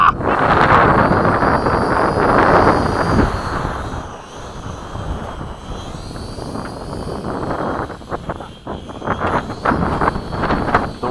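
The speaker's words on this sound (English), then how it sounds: "The wind is buffeting so much." Strong wind buffets the microphone outdoors at an airfield flying a mini B-17 model, a loud, rumbling gusty roar that swells and drops, with a faint engine whine above it.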